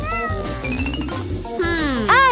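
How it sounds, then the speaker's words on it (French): A cat meows several times up close, drawn-out rising and falling cries ending in a sharp, loud yowl, with a low background hum underneath. "Mais où est-ce que je vais mettre mon chat?"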